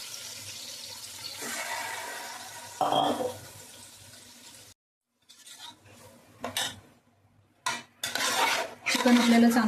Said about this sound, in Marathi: चिकन आपल्याला चांगलं परतून घ्यायचं आहे